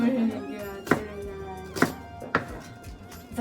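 Onions being chopped on a cutting board for a home-cooked curry: a few sharp knife thunks land at an uneven pace, with voices talking throughout.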